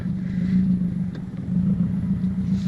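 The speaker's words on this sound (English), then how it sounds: "I'm taking my car on its first test drive." A Subaru Legacy GT with a freshly installed engine, coolant not yet bled, rolls along on its first test drive at night, its steady low engine drone filling the cabin loudly and evenly, with no one speaking.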